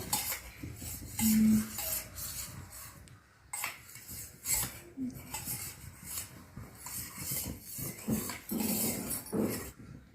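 A spoon stirs vanilla custard powder mixture in a bowl, clinking against the sides in repeated near scrapes and taps, with some dish clatter and background noise.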